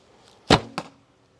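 A heavy 550-grain, 600-spine arrow loosed from a Paragon Raider recurve bow at 38 lb draw, giving one sharp deep thump followed about a quarter second later by a softer second knock, then quiet.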